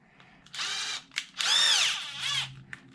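A power drill drives a bolt on a Traxxas Xmaxx 8s RC truck being repaired after bash damage, with several loud whirring bursts of rising and falling motor pitch, close up, with short pauses between them.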